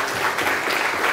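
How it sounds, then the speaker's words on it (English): Warm, dense applause from a lecture audience at Karolinska, a continuous, fairly loud wash of many hands clapping at once with no voices on top. "A warm applause"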